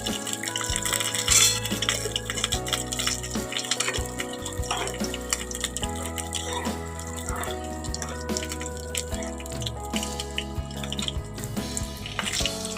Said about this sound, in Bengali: পাতি দিয়ে জলটা দিয়ে দিলাম